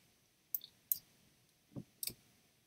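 Four sharp, quiet computer mouse clicks while editing an image in Photoshop, close and isolated in a still room, arriving in two uneven pairs.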